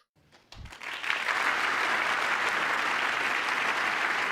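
A congressional audience breaks into applause, a sparse start of claps that swells within a second into loud, continuous clapping from a large crowd rising to its feet, steady to the end.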